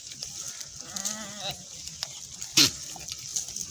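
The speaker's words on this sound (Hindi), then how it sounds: "ये आ रही हैं बकरियां भागते हुए, देखें।" Goats run in a village, one bleating clearly mid-clip with a wavering cry, amid scuffling hooves and rustling close by, followed by a sharp brief noise burst.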